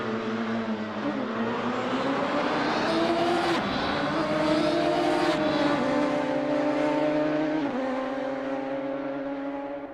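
A Radical SR3 race car in Assetto Corsa races around Mosport, its engine screaming loud and close, pitch climbing through the gears with brief drops at shifts and a sustained high whine, no voices.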